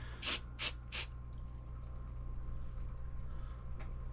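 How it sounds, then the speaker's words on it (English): Three short hissing bursts of aerosol spray over glue on a model boat build, in quick succession, close and clear, followed by a steady low hum. "And give it a spray."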